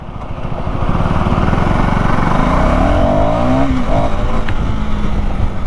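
A KTM Duke 390 motorcycle pulls hard in first gear, its engine climbing in pitch with a steady, loud rising drone close to the mic, with no talk over it.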